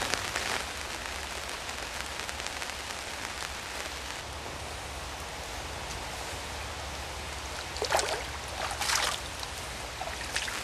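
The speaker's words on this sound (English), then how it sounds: "The rain's been coming down quite heavily now for a while" Heavy rain falling on a lake during an early winter daytime carp fishing session, a dense, steady hiss of drops on water and surfaces, fairly faint and continuous, with a couple of brief nearby rustling bursts.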